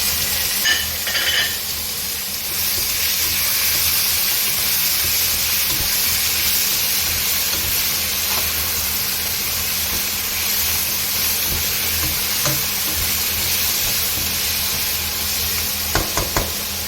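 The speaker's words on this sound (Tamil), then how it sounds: "தக்காளி பழம் போட்டு நல்லா கொஞ்ச நேரம் ஒரு 1 minute வதங்க" Tomatoes sautéing in a pan for a home-cooked lunch, a continuous close sizzle and hiss with occasional scrapes and clicks of stirring, steady throughout with no talking.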